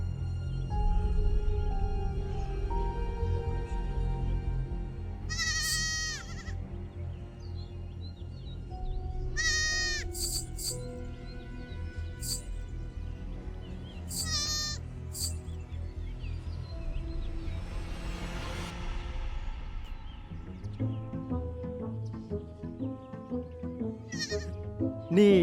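A goat bleats several times at irregular intervals, fairly close, over a steady low background rumble.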